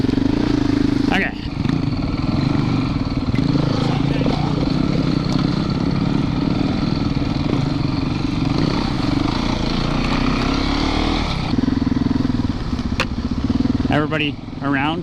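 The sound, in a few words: dirt bike engine, Yamaha YZ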